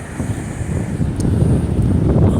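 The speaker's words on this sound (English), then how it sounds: "Waves right here." Surf rolling onto a California beach just after a freak hail storm left it white, a steady low rumble of waves with gusty wind buffeting the microphone, growing slightly louder throughout.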